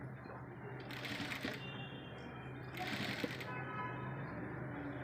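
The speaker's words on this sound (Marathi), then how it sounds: "आता आपल्याला इथे टिपा मारून प्लेट मारून घ्यायची." Sewing machine stitching pleats on a sleeve, heard in two short bursts of rapid mechanical clatter over a quiet background hum.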